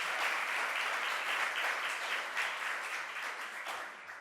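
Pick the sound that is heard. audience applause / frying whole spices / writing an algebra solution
audience applause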